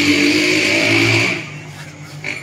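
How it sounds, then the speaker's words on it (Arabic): A handmade engine, said to run on water, revs loudly and evenly at close range, then drops back to a lower, rougher idle with a brief surge near the end. "باي ميه المحرك ده بيشتغل"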